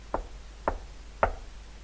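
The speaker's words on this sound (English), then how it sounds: "I stood hesitantly before the door a moment, then knocked firmly and resolutely." Three firm knocks on a door, evenly spaced, sharp and fairly near against a quiet background with no other sound.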